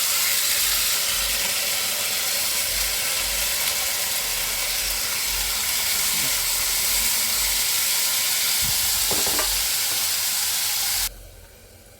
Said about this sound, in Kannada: ಇವಾಗ ಇದು ಫ್ರೈ ಆಯಿತು, ಹೀರೆಕಾಯಿ ಹಾಕ್ತೀನಿ